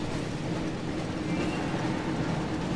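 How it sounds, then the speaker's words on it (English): A train in the Harry Potter and the Chamber of Secrets video game rumbles steadily, a continuous broad roar of rail noise with no speech over it. "Looks like we found the train, Ron."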